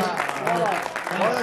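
Audience clapping at a Hindi kavi sammelan poetry gathering, a dense steady patter that fills the short stretch while a voice speaks over it.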